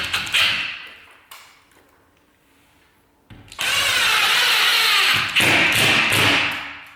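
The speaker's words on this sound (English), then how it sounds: "So we can now take our screws and reattach this." A power drill drives screws to reattach a ceiling cornice to timber, delivering short whirring bursts and then a long sustained run, close and loud, separated by quiet gaps and a tap.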